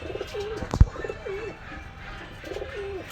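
Rampuri pigeons coo in a pen, with three distinct rolling coos spaced across a few seconds, close and clear over a low background hum, with one sharp knock near the start.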